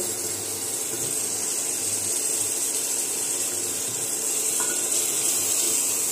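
Large pieces of biryani meat with fried potatoes being stirred in a pan, producing a continuous close sizzle with soft scraping and shuffling through the mixture and no speech.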